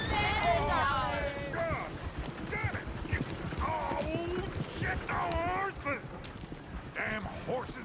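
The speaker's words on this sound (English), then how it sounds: "Damn horses." Horse hooves clip-clopping in the video game Red Dead Redemption 2, a steady rhythmic trot running beneath voiced character dialogue throughout, moderately quiet and mid-distance.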